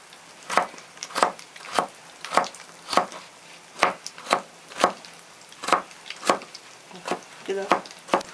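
Ingredients for Korean rice balls are chopped into small pieces with a knife on a cutting board, giving about fifteen steady, sharp knocks at an even rhythm, close and clear, with no talking.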